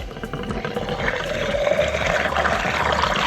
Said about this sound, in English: Plenty of fresh water going into the old tanks there.